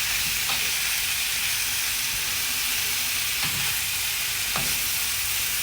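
Tuna sisig sizzles steadily in a hot pan, a loud continuous fry hiss broken by a few sharp scrapes of a spatula stirring the mix.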